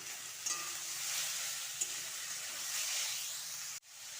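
Chopped potatoes sizzle as they fry in a wok (kadai) with black cumin seeds for a semolina breakfast dish, a loud continuous close-up hiss broken by a couple of sharp stirring clinks before cutting off abruptly.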